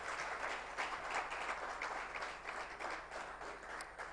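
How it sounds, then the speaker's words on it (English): An audience at a Ghana digital and innovation week event claps continuously throughout, a fairly faint, distant and even patter of many hands. "Please, let's clap for her"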